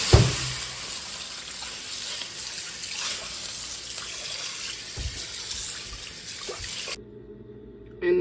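Tap water runs steadily while something is rinsed during cooking, a continuous close hiss and splash that cuts off near the end.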